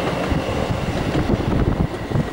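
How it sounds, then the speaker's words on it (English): A 12-car Gatwick Express class 387 Electrostar electric train passing Lovers Walk roars loudly and close by, with a steady rumble and rhythmic wheel clatter over the rails throughout. "Here goes Gatwick Express Electrostar class 387's"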